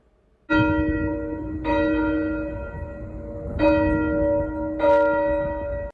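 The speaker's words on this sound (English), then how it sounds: "church bells rang at 2:32 p.m." Church bells in Murfreesboro strike four times at uneven intervals during a tornado memorial, each peal ringing out loudly and sustaining with a long, resonant hum between strikes.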